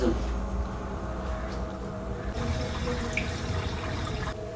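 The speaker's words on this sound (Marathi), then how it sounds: "अरे यार हा नळ कोणी चालू ठेवला" A water tap left running indoors pours in a steady, continuous stream, close and fairly loud, with no breaks.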